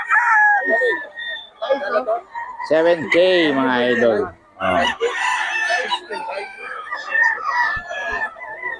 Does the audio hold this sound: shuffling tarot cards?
no